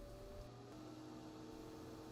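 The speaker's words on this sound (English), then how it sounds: "I've been digitally removing the sound of the fan for your listening pleasure." An electric fan blower inside a chord organ runs steadily on its own, a continuous broadband rush with a low hum and faint tonal whine, unchanging throughout.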